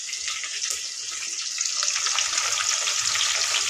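Curry leaves sizzle as they drop into a pan of Telugu-style chicken curry, a steady, bright crackling hiss that stays close and grows slightly louder toward the end, with no talking.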